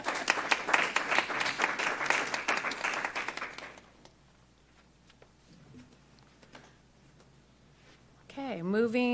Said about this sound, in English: Sure, let's clap.